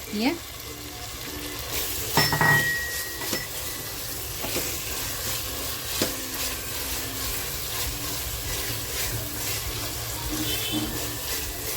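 Spiced masala for egg biryani sizzles steadily in a pan, with occasional stirring scrapes and a few clinks, low and continuous throughout with faint voice traces.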